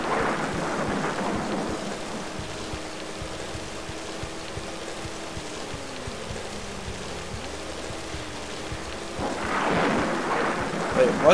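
Steady rain and rumbling thunder in the PC game Driver fill the scene, with a low droning tone underneath and louder bursts of rolling noise near the start and end.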